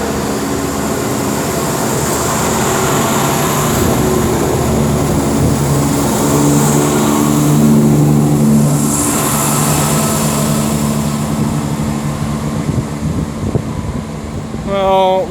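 At Oxford, a freight container train rolls past with a continuous loud rumble and droning engine hum, close by and steady throughout, and a brief high squeal comes near the end.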